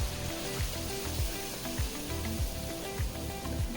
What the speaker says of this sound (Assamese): এইফালে পিঁয়াজ মিহি মিহিকৈ কাটি লৈ তেলত গল্ডেন ব্ৰাউন হোৱালৈকে ভাজি ল'ম।